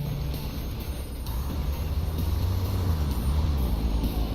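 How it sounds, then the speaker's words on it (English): A damaged rally truck engine in the Dakar 18 driving game drones steadily at idle, a low rumbling hum with a faint high whine above it, continuous and fairly loud with no voices. "I'm just wondering if I've got something damaged in the truck that's making that noise."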